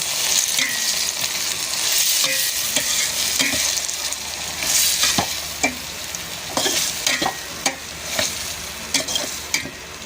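Ground meat sizzles steadily in a hot pan while being stirred, with repeated scraping and clinking spatula strokes over the continuous close frying hiss; no one speaks.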